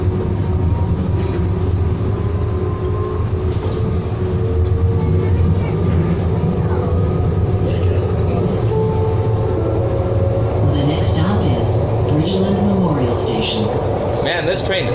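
A Siemens SD160 light rail train on Calgary's CTrain Blue Line runs with a steady low rumble and rattle, heard from inside the cab, while people talk over the constant motor drone.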